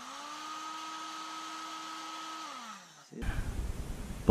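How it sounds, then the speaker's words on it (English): A handheld heat and strip gun heating a metal fishing spoon lure to set its tape, giving a steady close whirring hum that winds down and cuts off, followed by louder rustling and handling noise. "This is a heat and strip gun. This is what really makes your tape stick."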